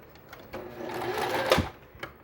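A sewing machine stitches patchwork fabric while a quilt block is pieced, running in one steady burst of rapid mechanical whirring for about a second before slowing to a stop, close up, with no voices.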